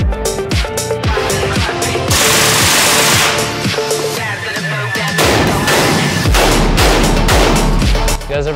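Indoor-range shooting of a 9mm delayed-blowback pistol-caliber carbine, loud sharp reports fired in quick strings and bursts with heavy echoing reverberation between shots.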